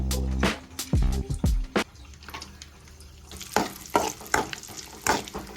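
Cashews and almonds fry in a little ghee, sputtering and crackling in short bursts, with a few clinks of a spoon stirring the pan in the opening seconds.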